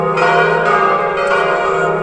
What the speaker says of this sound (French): les cloches de toutes les églises sonneront pendant 10 minutes